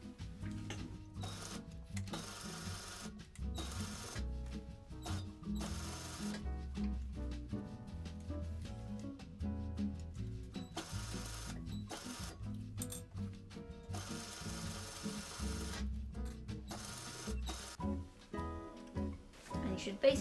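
A sewing machine stitching a shorts seam with 1 centimeter seam allowance, rapid mechanical whirring in bursts that stop and restart, with short pauses between runs; a voice talks over part of it.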